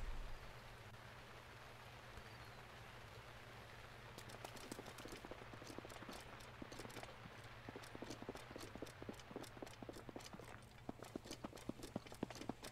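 Steady rain falls in the Breath of the Wild game world, a continuous soft hiss, joined midway by rhythmic horse hoof clip-clops that grow busier toward the end.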